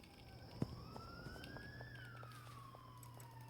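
A police siren from the video game Schedule I wails steadily through the whole stretch, its pitch rising then falling, sitting quietly under a continuous game background hum with one brief sharp click.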